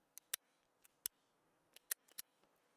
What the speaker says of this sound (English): If you can't hear my pen clicking